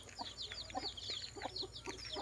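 Free-range village chickens cluck and chirp continuously at a distance near a harvested rice field, many birds overlapping in a quiet outdoor setting with a steady background hiss.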